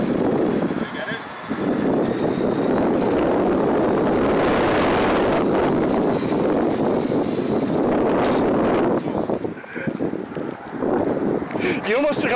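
An electric remote control helicopter throttles up for its first takeoff, a loud whining rotor and motor roar rising and holding over gusty wind noise, with people talking excitedly nearby.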